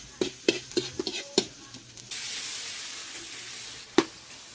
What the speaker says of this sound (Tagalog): Igigisa muna natin ang sibuyas, bawang at saka luya bago natin ilagay ang gata.